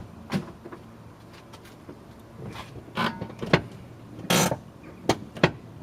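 A car handbrake is pulled on and released repeatedly on a vehicle with a rusty parking brake, making a series of short clicks and ratcheting clunks at irregular intervals, close and fairly quiet, without talking.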